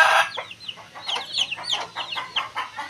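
A chicken on a rural Philippine farm clucks repeatedly up close, a rhythmic series of short throaty clucks and squawks with quiet background.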